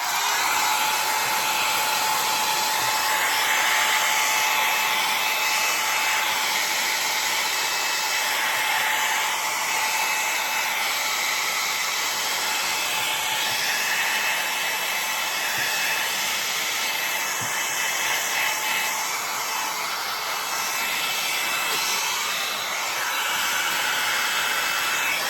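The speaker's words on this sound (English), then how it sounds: "I prefer using this little cheap blow dryer" A cheap blow dryer heat-shrinking shrink wrap, giving off a steady, loud airy whoosh with a faint whine that holds unbroken for the whole stretch, with no voices.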